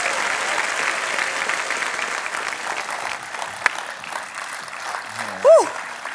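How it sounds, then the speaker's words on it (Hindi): Studio audience of The Kapil Sharma Show applauds Anushka Sharma in loud, sustained clapping that fills the room, with a brief whistle rising near the end. "जोरदार तालियां अनुष्का के लिए और हमारे साथी कलाकारों के लिए।"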